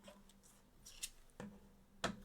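Scissors snip and click a few times, quiet and close, with soft handling noises in between.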